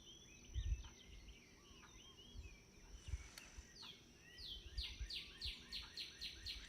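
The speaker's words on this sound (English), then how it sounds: "I can hear birds outside my window too." Faint birds chirp and trill in the distance, with rapid repeated tweets building toward the end over quiet background noise.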